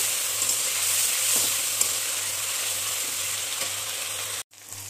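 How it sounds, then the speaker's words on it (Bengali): Tomato sizzles in hot oil in a pan for aloo dum, a loud, even, hissing fry with faint stirring touches and a low background hum, cutting off abruptly near the end. "টমেটোটাকে একটু ভালো করে ভেজে নিতে হবে।"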